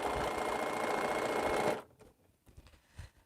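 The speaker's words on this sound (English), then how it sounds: "I'm going to sew these things together." A sewing machine stitches quilt fabric pieces together in a loud, steady whirring run, then stops abruptly, leaving a few faint clicks and handling sounds.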